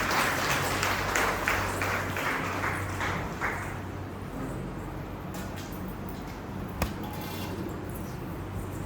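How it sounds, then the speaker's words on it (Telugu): An audience at a devotional Pada Seva gathering claps together, loud dense applause for about three seconds that then thins and fades into scattered claps and low background murmur. "చప్పట్లు కొట్టండి"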